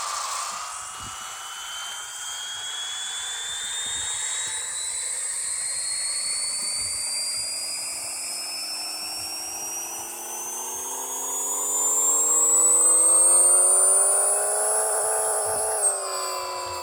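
In Pixel Car Racer, a single-turbo tuned car's engine winds up steadily on a dyno, its whine climbing in pitch for over fifteen seconds, loud and alone, then cutting off abruptly.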